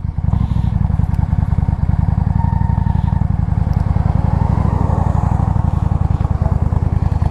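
A 2005 Yamaha V Star 650 motorcycle on a ride, its engine giving a steady, rapid low throb at constant speed, with wind rush over it throughout.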